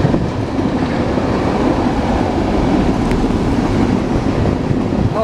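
A freight train with tanker cars rolls past close by, a loud, continuous rumble and rattle of wheels on track that holds steady throughout, with no speech.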